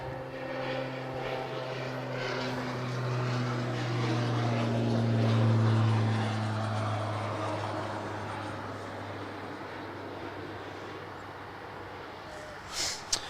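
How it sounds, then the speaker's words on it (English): A Qantas Embraer E190 airliner arriving at Adelaide Airport produces a sustained engine drone with a low tonal hum that swells and then fades, heard from a distance, with faint talking. "Qantas 1793 mate coming in from Melbourne is the E190."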